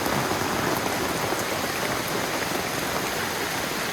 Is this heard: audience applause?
no